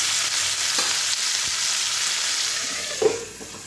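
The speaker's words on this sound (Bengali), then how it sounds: "সবাই একটু লবণ আর একটু হলুদ দিয়ে ভালো করে ভেজে নেব সজনাগুলোকে।" Moringa drumsticks fry with salt and turmeric in a pan, giving a steady, close sizzle with a brief stirring clatter near the end.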